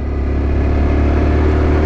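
Honda Dax motorcycle engine while riding, a loud, close, steady mid-pitched engine drone with a fast, even pulsing, holding one speed through the short stretch.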